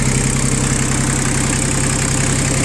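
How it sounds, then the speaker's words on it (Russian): A three-cylinder Iseki TU 1700 Japanese tractor engine idles steadily up close, a loud, even diesel hum with no pauses or voices. "Такой вот тракторочек."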